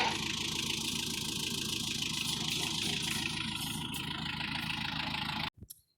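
A tractor engine runs steadily at a low idle-like drone while lifting a load with its front bucket outdoors, continuous and fairly close, cutting off abruptly near the end with a couple of brief knocks.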